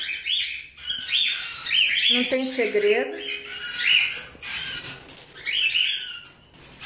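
Pet birds in a home aviary chirp and squawk in quick bursts, with a loud flurry of wing flapping near the middle, heard close while someone briefly speaks.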